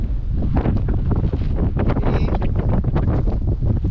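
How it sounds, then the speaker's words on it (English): Strong wind on a hilltop near Thompson Dam, Victoria, buffets the microphone in loud, continuous rumbling gusts, roaring without pause and no voices. "It's a bit windy up here now."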